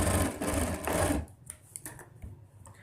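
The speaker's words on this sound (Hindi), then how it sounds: "अब हम इसकी भी स्टिचिंग कर लेते हैं।" A sewing machine stitching a ladies suit whirs loudly and steadily for about a second, then stops. Only faint clicks and handling noises follow, with no one talking.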